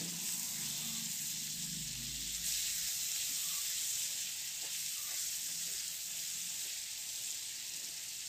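Chopped onion and tomato sauté in a hot pan for a Konkan-style golma fry, giving a steady, soft sizzle and hiss close by, with a few faint stirring clicks and no talking.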